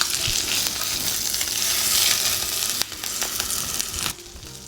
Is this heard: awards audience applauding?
no